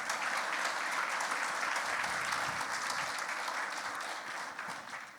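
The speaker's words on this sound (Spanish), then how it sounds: "Vamos a darle un fuerte aplauso a Jesucristo." A church congregation claps in sustained applause, a dense, steady wash of hands that carries evenly throughout without pause.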